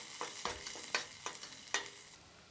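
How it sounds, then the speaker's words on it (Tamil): Onion, curry leaves and green chilli sautéing in a pan for peanut rice, with a soft steady sizzle broken by several distinct stirring scrapes and clinks, close and moderately quiet. "சேர்த்து நல்லா கலர் மாறுற வரைக்கும் நல்லா வதக்கிக்கலாம்."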